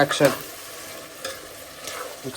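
Masala sizzles and fries in a pan while being stirred, with scraping strokes at irregular intervals over a soft, steady crackle, heard close without talk.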